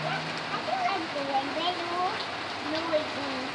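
Steady outdoor rain falling and wetting a chair and patio, a soft continuous hiss with faint drips, fairly quiet, and a few bird chirps in the background.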